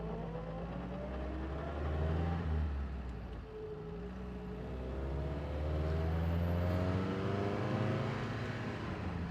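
A 1953 Sunbeam Alpine Mk 1 pulls away and accelerates on the road, its engine note rising steadily through the gears in a continuous, fairly loud drone with no one talking.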